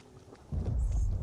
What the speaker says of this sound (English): I do love storm lightning though.